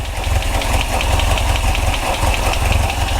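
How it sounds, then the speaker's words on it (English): A warmed-up VW Autovilla camper van engine idles smoothly and steadily, a close, loud, rhythmic low rumble with a faint knocking pulse and no talk. "the moment it warms up, the idling is absolutely perfect"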